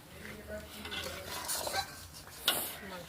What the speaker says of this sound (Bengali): একটু কষছি তো বাবা, ভালো করেই মাংস কষছি।